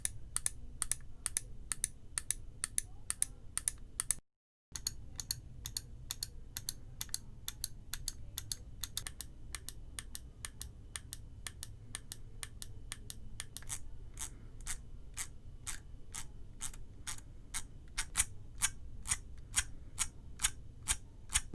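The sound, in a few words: computer mouse button clicks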